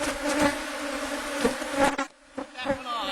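A dense, steady drone of many honeybees swarming from an opened, strong five-deep hive, continuous and close with a brief dip partway through.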